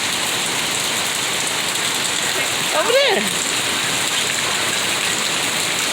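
Steady rain pours down in the Philippines, a dense even hiss throughout, with a brief voice speaking partway through over the rainfall.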